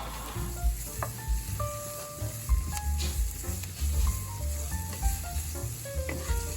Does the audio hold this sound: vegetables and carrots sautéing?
yes